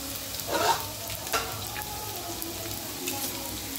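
Potato pieces fry in hot oil in a pan, giving a close, steady sizzle with a brief louder burst of crackling and a few light stirring scrapes.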